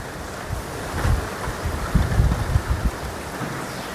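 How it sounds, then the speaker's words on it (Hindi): Heavy early-morning monsoon rain falls in a steady, dense hiss, broken by gusty low rumbles like wind against the microphone, with no voices heard. "और आप मौसम देखिए, अभी इतनी बारिश हो रही है।"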